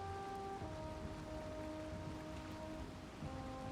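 Steady rain falls in a video game, a dense constant patter with a faint low rumble and a few sustained tones underneath, with no talking.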